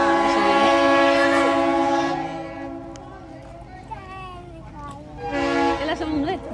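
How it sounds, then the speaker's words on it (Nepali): A train arrives in Cuyahoga Valley National Park, its horn sounding in sustained tonal blasts near the start and again at the end, with people talking nearby in between. "रेल आयो"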